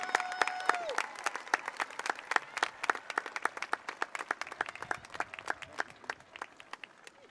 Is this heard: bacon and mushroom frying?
no